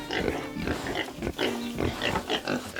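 Pigs on a farm grunting and oinking in a dense, continuous jumble of snorts, close and fairly loud, with several animals overlapping.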